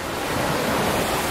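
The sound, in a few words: Pacific Ocean waves coming in on beach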